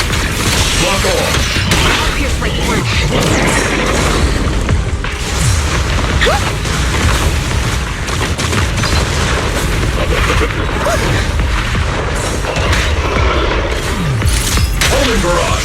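Dense barrage of homing missile explosions in the game Zenless Zone Zero, continuous loud booms and bursts layered with mechanical whirs and intermittent voices throughout.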